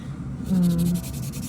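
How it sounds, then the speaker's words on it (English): A sponge file bevels the free edge of a fingernail during a red manicure, giving a short close scratchy rasp of about half a second amid faint rubbing. "when you use like a sponge file on the free edge, it just rounds it off"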